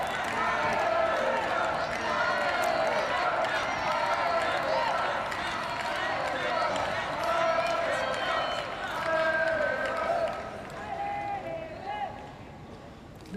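A crowd cheers steadily through a Paralympic boccia match at Paris 2024, a sustained roar of voices and occasional claps behind close commentary talk.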